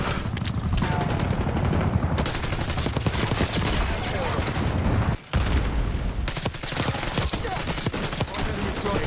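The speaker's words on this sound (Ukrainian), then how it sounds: "Це термобалістична граната була?" A thermobaric grenade explodes amid dense gunfire in the video game Black Ops 6, loud and close: rapid bursts of shots and booms run almost nonstop, broken by a brief pause before the firing resumes.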